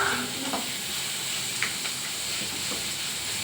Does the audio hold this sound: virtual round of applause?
no